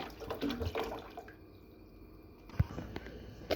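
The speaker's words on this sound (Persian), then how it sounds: "اول 1 کیلو شکر، 1 لیتر آب بهش اضافه میکنم" One litre of water poured onto a kilo of sugar in a pot for homemade halva, a faint liquid splash and drip with a few soft knocks, fairly quiet and close, no talking.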